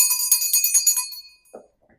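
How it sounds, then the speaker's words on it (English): A small hand bell rings in a quick shaking burst of bright, tinkling strikes that fade out, followed by a faint soft knock. "I'm just gonna use my mom's bell,"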